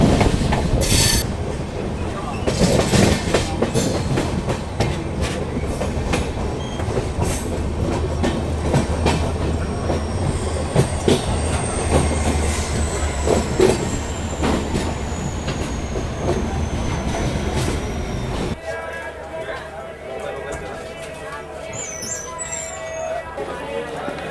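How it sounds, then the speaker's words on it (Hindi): The Kathgodam Ranikhet Express rushes past at a station in a loud, continuous rumble with rattling wheels and a rising wheel squeal, then cuts off abruptly to quieter station ambience. "ये थी काठगोदाम रानीखेत एक्सप्रेस, काठगोदाम जैसलमेर"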